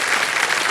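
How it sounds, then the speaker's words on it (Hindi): Studio audience applauding on a quiz game show set, a dense, steady burst of clapping with no voices, heard alone for under a second. "ताली बजते रहे इनके लिए"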